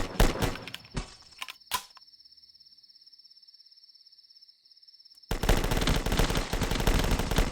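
Gunfire in The Last Stand video game: a few sharp shots up front, a long gap with a steady high whine, then dense loud rapid fire crowding in at the end.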